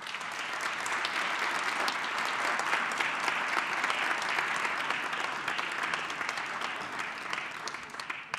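Steady, dense applause from an audience at a national sports awards ceremony in Mexico, continuous and fairly loud for the whole stretch, with no speech over it.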